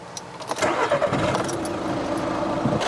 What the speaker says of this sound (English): So let's start up the engine.